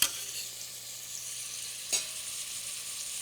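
Onion sautes in a pan on the stove, a steady soft sizzle with a brief stir or scrape partway through, fairly quiet and without talk.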